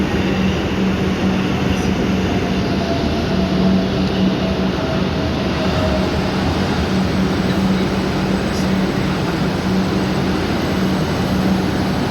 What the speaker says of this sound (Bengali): এই যে মেট্রোর স্টেশন